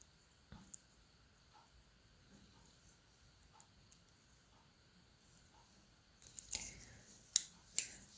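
Small scissors snip thread during tatting work on a flower motif. Faint, sparse clicks are followed by a few louder close snips near the end, in a quiet room.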